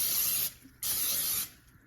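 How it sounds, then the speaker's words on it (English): Cooking spray hisses twice onto the two hot plates of an open waffle maker, each burst about half a second long with a brief pause between, close and fairly soft, with no speech over it. "we're gonna spray both sides every single time"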